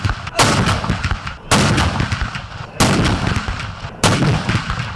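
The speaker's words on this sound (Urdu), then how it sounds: "پاک فوج کے چاقو چوبند دستے نے دن کا آغاز 21 توپوں کی سلامی سے کیا۔" A ceremonial 21-gun artillery salute on Pakistan Day, with four loud, booming cannon blasts spaced about 1.2 seconds apart, each one rolling off into a long rumbling echo.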